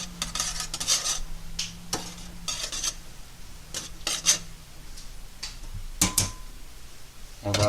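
Couscous with olive oil stirred in a pot: repeated scraping and clinking of a utensil against the vessel in irregular bursts, close and fairly quiet, with no talking.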